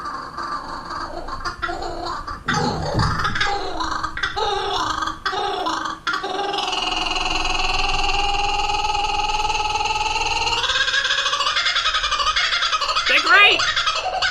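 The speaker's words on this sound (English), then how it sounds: "This is what a Kookaburra sounds like." A kookaburra's laughing call, a long run of harsh, chattering cackles that builds into a loud, sustained rolling chorus before breaking into rising hoots near the end, heard alone and close.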